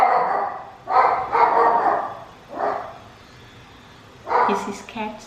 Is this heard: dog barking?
yes